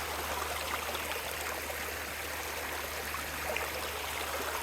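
Fraser River flowing in a steady, continuous broadband rush of water with a low hum beneath, distant and even throughout, with no voices.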